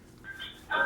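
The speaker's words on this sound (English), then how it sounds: "Oh, someone's calling." A short electronic tone signals an incoming phone call in a radio broadcast studio, with a steady pitched beep that rises into a brighter, louder ring near the end.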